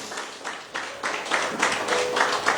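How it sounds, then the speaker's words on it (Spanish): A church congregation breaks into applause, the clapping starting sparse and building into a fuller, steady patter. "Dele un fuerte aplauso al Señor."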